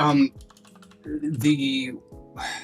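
Keys clack on a computer keyboard in a burst of quick taps, mostly under overlapping casual talk.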